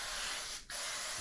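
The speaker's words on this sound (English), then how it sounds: "I'll just spray this with some non-stick spray" Non-stick cooking spray hissing onto a muffin pan for mini corn muffins, a steady close aerosol spray with a brief break in the middle, then continuing.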